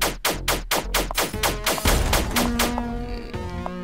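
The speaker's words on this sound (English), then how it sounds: "Oh, I can spam the gun at least." Rapid, loud bursts of gunfire from a gun spammed over and over in the video game Paradox Soul, a steady run of sharp shots at first, then fading into ringing tones and game ambience.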